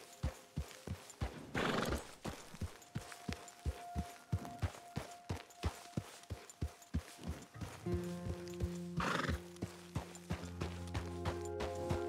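An Arabian horse in Red Dead Redemption 2 walks with a steady, evenly spaced clip-clop of hooves and gives two loud whinnies, one early and one near the end, with no talk.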